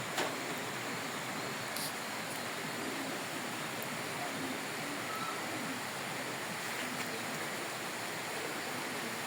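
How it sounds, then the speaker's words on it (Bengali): Rain falls in a steady, unbroken hiss that stays even throughout, soft and diffuse with no voices. "অনবরত বৃষ্টি পড়তেছেই।"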